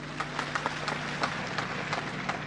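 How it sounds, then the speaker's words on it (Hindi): Applause from an audience at a political speech, a dense patter of many hands clapping continuously at moderate distance, with no one speaking over it. "आप लोगों ने तालियों से मेरी बात का स्वागत किया है"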